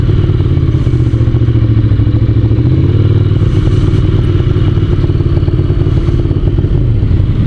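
A Ducati motorcycle engine, ridden on full choke, revs loud and close in a continuous high-idle drone with slight shifts in pitch and no talk over it.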